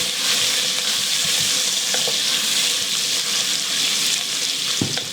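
Bacon browning in a pan for beef short rib bourguignon, a steady, bright frying sizzle that carries on without pause, with occasional faint pops and clinks, heard up close.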